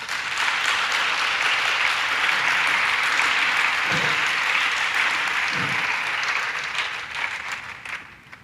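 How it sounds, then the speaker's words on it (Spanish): A church congregation gives sustained applause, a dense full-room clapping that holds steady and then tapers off near the end. "Dele un aplauso al Señor en esta hora."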